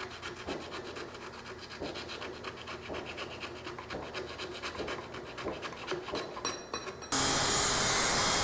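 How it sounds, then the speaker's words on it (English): A putty knife scrapes old finish off an 1866 Cresson, Hubbard and Smith vintage lathe, giving steady rasping, rubbing strokes close up, followed by a sudden loud burst of broadband noise at the end. "I'm just taking the putty knife and coming back and scraping it off"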